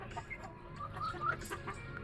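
Hens and a rooster clucking on a backyard farm, soft close clucks and short chirping calls scattered across a brief, quiet moment with no talking.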